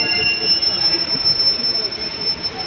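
A train at a railway station on the Bangalore to Chennai route lets out a loud, close, sustained metallic wheel squeal over a rumbling rolling noise.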